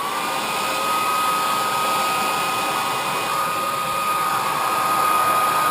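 Hair dryer blowing steadily over freshly airbrushed fire tiger paint on a fishing jerkbait, a continuous loud, even whoosh with a faint whine running the whole time, no voices.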